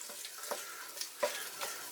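Curry leaves and seeds frying in a pan while being stirred, a faint sizzle punctuated by soft scrapes and small pops at irregular intervals, with no talk.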